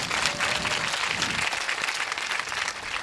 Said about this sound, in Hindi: आप सभी ताली बजाकर इस गांव के ब्रजवासियों का स्वागत करें